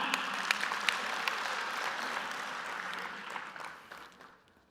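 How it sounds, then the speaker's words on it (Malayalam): Audience applause at a business conclave, a steady wash of many hands clapping that carries on for several seconds before thinning out and fading near the end. "ഇവിടെ ഇരിക്കുന്ന ഓഡിയൻസിന് ക്ലാപ്പ് ചെയ്യാതെ നമുക്ക് തുടങ്ങാൻ പറ്റില്ല"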